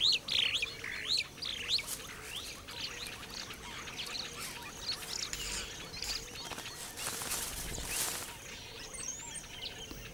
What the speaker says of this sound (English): A number of species of weaver birds have one thing in common.